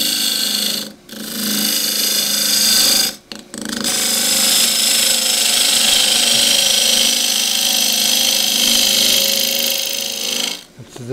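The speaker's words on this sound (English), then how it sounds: "Once I'm in there, this is a 3/8 half inch spindle gouge." A 3/8 inch spindle gouge cuts into a cross-grain wooden box blank spinning on a lathe, a steady loud hissing, whirring tear of wood broken by a few brief pauses as the tool lifts away.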